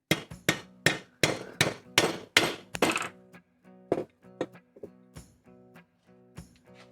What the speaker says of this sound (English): Maybe I'll just go ahead and hammer that home here.